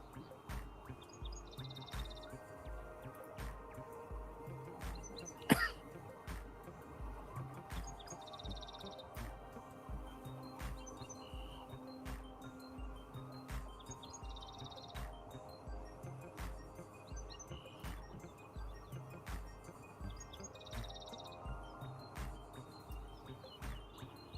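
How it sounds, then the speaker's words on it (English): Faint bird chirps repeat throughout over a steady low background hum, with one brief sharp click near the start. "Oh, I love hearing those birds chirping."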